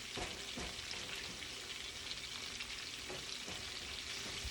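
Fresh parsley stirred into a sizzling pan of Italian keto meatballs, a soft continuous frying hiss with a few faint spoon taps and scrapes, fairly quiet and close with no voice over it.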